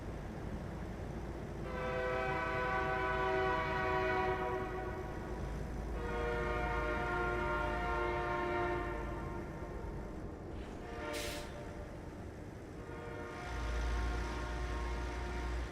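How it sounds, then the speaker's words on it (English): A freight train in a truck-driving simulator game rumbles past with a steady low roll, its multi-tone horn sounding in long repeated blasts at moderate distance, with no talk. "and a train's coming through too"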